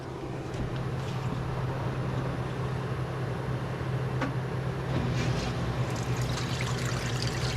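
Dirty water rushes and trickles steadily from a draining washing machine, a constant gushing flow over a low mechanical hum.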